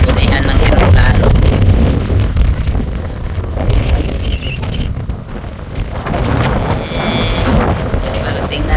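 Strong wind gusting across the microphone outside Perpignan airport, a loud continuous roaring buffet that rises and dips, with people talking faintly underneath.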